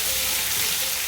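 Curry leaves dropped into hot oil already holding chana dal, urad dal, cumin and fenugreek, giving a loud, steady, close-up sizzle that fills the whole moment.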